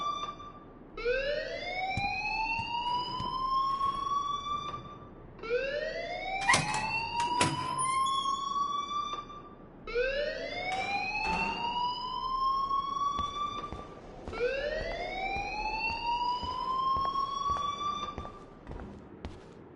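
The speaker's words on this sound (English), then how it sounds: "please turn off that alarm since that's your job" An alarm in the Life is Strange video game wails in four rising electronic sweeps, each climbing sharply, then holding steady before cutting off, repeating about every five seconds, loud and close.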